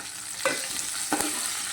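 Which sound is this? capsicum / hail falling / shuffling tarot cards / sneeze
capsicum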